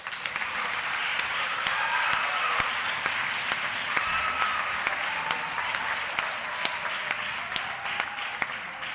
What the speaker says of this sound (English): I would really appreciate if you give yourself a very warm round of applause.